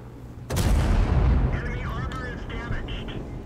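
A tank's cannon fires in a tank video game, a sudden loud boom followed by a long rumbling decay, with faint mechanical chirps and whines afterward.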